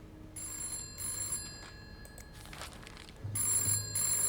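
A telephone bell rings in two bursts of repeated trilling rings, separated by a short pause, fairly close in a quiet room with no talking.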